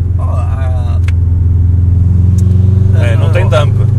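A Subaru Impreza STI with a reprogrammed turbo, rated 350 hp, idles with a deep, steady rumble and a low, even throb, while someone talks over it at the start and again near the end.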